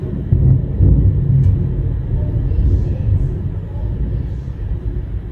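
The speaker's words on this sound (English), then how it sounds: "There's a storm." Thunder from a storm rolls in as a deep, loud, sustained rumble that swells early and then slowly fades without dying away completely.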